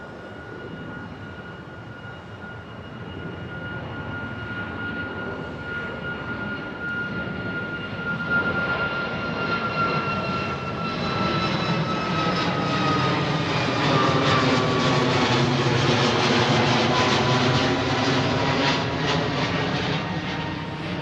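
A Boeing 737 MAX jet airliner departing overhead from London Heathrow's runway 09R, its engine roar building steadily into a loud, sustained whine with shifting tones as it passes close above.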